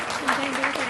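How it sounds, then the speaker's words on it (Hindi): Audience applause at a matrimonial event, a brief steady wash of clapping heard up close for under a second, with a voice faintly present beneath it. "हाँ, तो तालियों की आवाज आनी चाहिए।"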